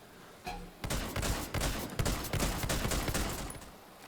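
Rapid gunfire crackles in a first-person shooter, a dense run of loud blasts and bursts packed close together, with a brief pause before the volley.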